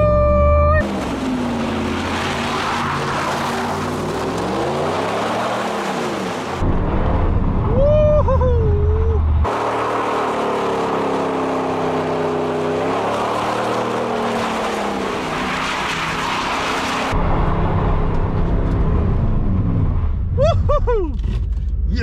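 A 1993 Camaro Z28 revs hard and spins its tires in a parking lot, a loud, sustained engine roar with rising and falling pitch, broken by a short lull before the wailing resumes.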